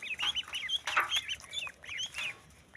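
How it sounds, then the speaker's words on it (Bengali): Khaki Campbell ducklings give a rapid run of shrill, high peeping calls, several birds chirping over one another in quick bursts, close by with no talking. "এই যে ক্যাম্বেল জাতের হাঁস"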